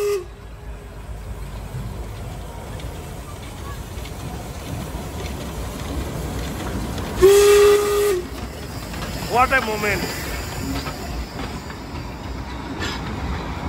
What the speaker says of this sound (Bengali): R guys, train is coming. আমি ট্রেনের জন্যই বসে আছি।